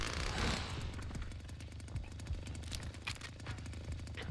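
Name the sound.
chainsaw revving in Texas Chainsaw Massacre video game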